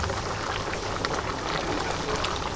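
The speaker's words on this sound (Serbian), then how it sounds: "Pošto nam je voda prokovala" Water boils steadily in a pot in a restaurant kitchen, a dense continuous bubbling hiss with no break or voices.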